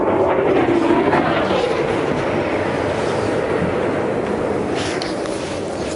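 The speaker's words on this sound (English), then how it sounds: "That sounded like a fighter jet overhead." A loud, sustained fighter jet roar rumbles overhead during the Russian invasion of Ukraine, a broad continuous wash of noise that slowly fades slightly over several seconds.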